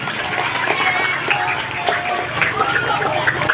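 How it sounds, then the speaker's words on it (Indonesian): Schoolchildren at an Isra' Mi'raj commemoration in a primary school clap together amid lively chatter and crowd noise, producing a busy, uneven patter of hands. "Tepuk tangan untuk kita semua."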